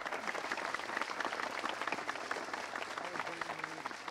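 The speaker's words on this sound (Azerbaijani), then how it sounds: "Ürəkdən alqışlayaq." A theatre audience at a 2023 stage show in Khachmaz, Azerbaijan, claps continuously and loudly throughout, a dense steady wash of applause.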